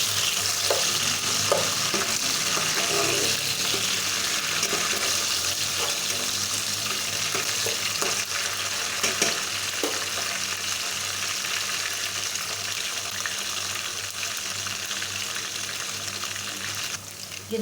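Garlic frying with lightly browned onions in a pan, a loud, steady, close sizzle that runs unbroken for the whole stretch, with faint stirring scrapes and no talking.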